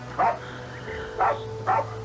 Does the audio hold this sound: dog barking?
yes